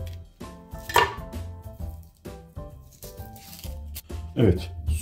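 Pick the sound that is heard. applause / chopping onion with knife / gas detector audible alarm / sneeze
chopping onion with knife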